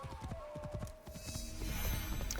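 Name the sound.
horse hooves clip-clopping in the video game Assassin's Creed Shadows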